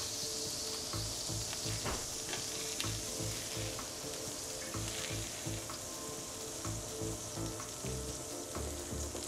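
Sausage frying in a hot pan for a breakfast sandwich, a dense continuous crackle and sizzle with faint scraping stir sounds, close and steady throughout, no voices.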